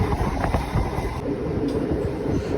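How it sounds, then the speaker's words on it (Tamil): A Chennai MRTS commuter train pulling out of Kotturpuram station, heard from on board as a steady loud rumble with faint wheel clatter and no talking. "கோட்டூர்புரம் ஸ்டேஷன்லேருந்து நம்மளோட ரயில் அடுத்த நிலையத்தை நோக்கி கிளம்பிடுச்சு."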